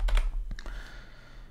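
A few quick computer keyboard keystrokes, typing a short branch name into a GitLab pipeline trigger setting, close and crisp over a low steady hum, then trailing off into quiet.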